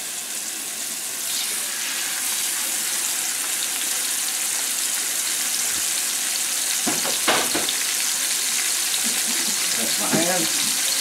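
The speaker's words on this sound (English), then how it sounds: "A little sizzle." Food sizzles in a pan on a home stove, giving a steady bright frying hiss, with a few brief clatters of handling near the end.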